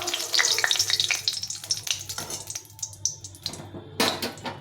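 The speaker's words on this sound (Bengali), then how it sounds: "তো এগুলো ভাজা হয়ে গেছে, দেখো সুন্দরভাবে ভাজা হয়েছে, কোনো ভেঙে যায়নি" Chhana balls fry in hot oil, a loud crackling sizzle broken by scraping stirs and the clink of a utensil against the pan, with no talk.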